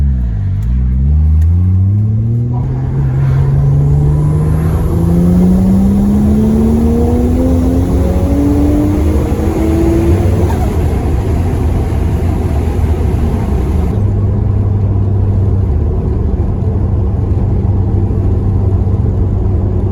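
A Nissan R33 Skyline with an RB25 engine revs on a dyno, its note climbing steadily in pitch for about ten seconds, then falling back to a loud, close idle rumble with no talking.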